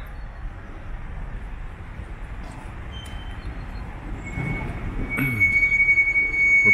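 A metro train runs at the Opera metro stop in Budapest with a low rumble that grows louder, joined near the end by a sustained high wheel squeal.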